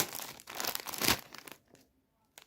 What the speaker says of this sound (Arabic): نفتح رابع كيس ونقول بسم الله الرحمن الرحيم